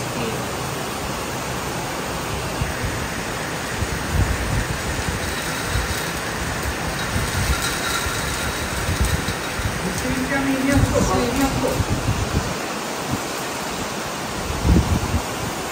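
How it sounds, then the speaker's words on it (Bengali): Heavy cyclone rain pours steadily in Darwin during Cyclone Fina, a dense continuous hiss close by, with low rumbling bursts and a voice talking over it. "ডারউইনের সাইক্লোনের বৃষ্টি শুরু হয়ে গেছে।"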